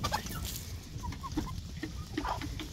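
Chickens on a farm clucking in short, irregular bursts, close by and moderately loud over a rustling background, with several overlapping birds.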